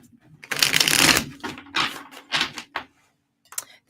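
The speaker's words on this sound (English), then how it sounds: "I'm going to do some shuffles" Tarot cards are shuffled in close, crisp riffling bursts, one long rush followed by several shorter flurries and pauses.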